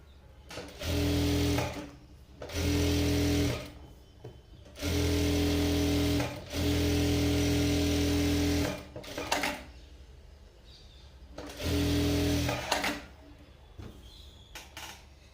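Sewing machine stitching lining for invisible piping on sleeves, five loud close bursts of stitching one to two seconds long separated by short pauses with fabric handling.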